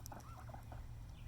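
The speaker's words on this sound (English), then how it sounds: "Oh, here are the ducks." Garden ducks give a quick burst of calls, faint and brief, over a low steady outdoor background with no talk.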